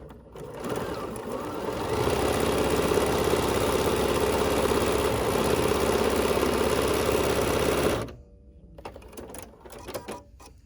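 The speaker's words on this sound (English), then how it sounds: "So all I'm going to do is just sew this down at an angle, just like this." A Bernina sewing machine stitches fabric scraps at an angle, a steady close mechanical whir running for about eight seconds before stopping abruptly and leaving quieter handling noises.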